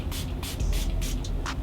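Rose water facial mist sprayed onto a face, several short breathy spritzes in quick succession, each a close hissy burst, with soft handling noise between them and no talk.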